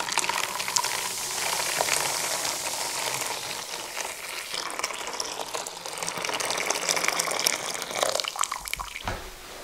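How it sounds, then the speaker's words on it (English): Hot water poured into a bowl with mint, thyme and bicarbonate of soda for a steam inhalation, a steady close splashing and trickling stream that runs almost continuously, then eases off near the end. "Then we'll add some hot water"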